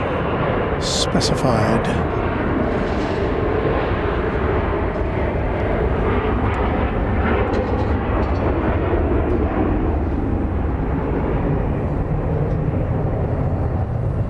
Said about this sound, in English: So this is a Gulfstream G650ER.